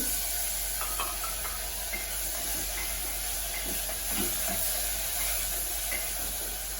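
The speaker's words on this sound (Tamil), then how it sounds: "இப்போ வதங்கியாச்சு நான் தக்காளி சேர்த்துக்கிறேன்" Tomatoes going into sautéed onions in a pan for sambar, a steady loud sizzling hiss throughout with faint scattered clinks, no voices.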